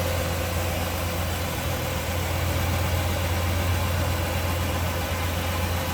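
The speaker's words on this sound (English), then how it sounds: "Good sounding engine." A 1967 Buick Skylark convertible's V8 idles steadily up close, a smooth, even low rumble with constant mechanical hum and no voices.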